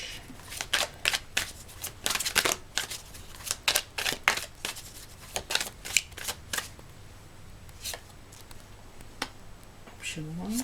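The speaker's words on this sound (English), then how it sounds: "I'm going to pull another card for each." A deck of tarot cards being shuffled by hand, a quick run of crisp riffling snaps and slaps that comes in clustered bursts, close and fairly quiet, then thins out toward the end with a brief low voice.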